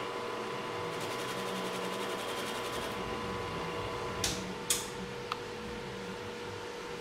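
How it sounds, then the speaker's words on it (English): A wood lathe spinning a table leg blank, with a steady low motor hum and faint rhythmic rattling, plus a few sharp brief scraping hits from the turning tool near the end. "You're letting the lathe do most of the work for you."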